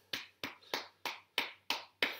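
Someone tapping their own back during a children's sports session: seven crisp, evenly spaced pats at a quick steady rhythm, close and fairly quiet, with nothing else around them.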